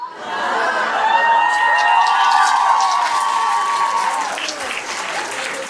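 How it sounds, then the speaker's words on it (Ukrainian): Audience at a live comedy improv show applauding and cheering, a continuous crowd wash with a sustained voice-like tone over it in the middle, fading slightly toward the end. "Є відчуття, що оплески на рівні з тим, як я сюди виходила."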